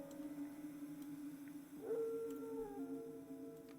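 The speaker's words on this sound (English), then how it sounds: "Can you hear the terrible howls?" Wolves howl in the Lord of the Rings Online game, heard in Bree-land as a rising, sustained howl over a low ambient bed at moderate distance, with faint yips layered beneath.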